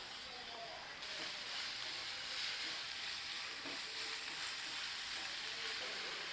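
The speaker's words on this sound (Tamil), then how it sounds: "இதில் வெட்டி வச்சிருக்கிற 2 மீடியம் சைஸ் பெரிய வெங்காயம் இதை நான் சேர்த்துக்கிறேன்." Two medium chopped onions sizzle in a few tablespoons of hot oil, headed for Madurai-style chicken sukka; the frying hiss is soft and even, swelling slightly after the first second, with no talk.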